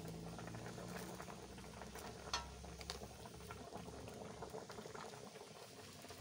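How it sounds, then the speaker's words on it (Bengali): A pot of sour fish curry bubbles at a gentle boil, a soft continuous patter of popping bubbles heard close and fairly quiet, with one or two slightly louder pops. "টক ফুটছে"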